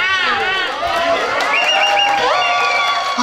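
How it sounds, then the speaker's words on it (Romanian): A lively crowd cheers, whoops and claps for a newly engaged couple at a proposal in Milan, loud and continuous, with voices shouting and chattering throughout. "Aplauze, aplauze, aplauze pentru cel mai fericit cuplu!"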